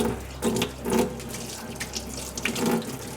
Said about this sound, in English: run a bit of warm water